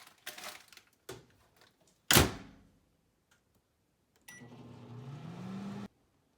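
A microwave oven cooking food: a few sharp clicks and clunks, a loud thump as the door shuts, then a steady humming drone with a rising tone that runs for about a second and a half before stopping.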